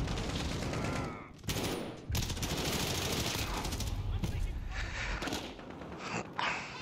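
Dense bursts of gunfire fill the video game Killhouse, rapid cracks and rattling volleys almost continuous and loud throughout, with a voice talking underneath.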